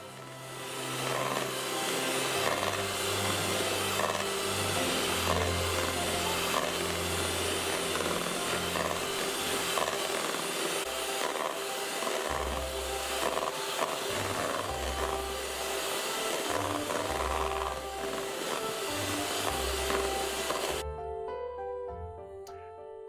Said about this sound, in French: je continue à battre les blancs d'œufs jusqu'à obtenir